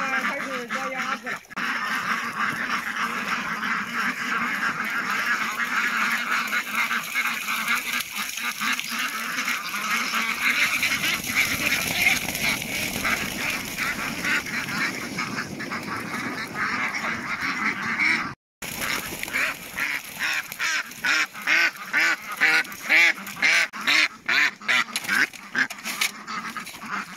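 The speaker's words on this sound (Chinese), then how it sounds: "现在开始抓鸭子" Mallard ducks being caught by hand quack and squawk repeatedly in an agitated, continuous stream at close range, with people talking over them and a brief cut in the middle.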